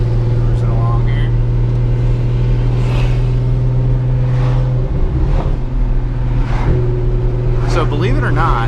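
Inside a Nissan GT-R cruising along the road, a steady low engine and road drone hums throughout with a few gear-change surges, while a person talks over it.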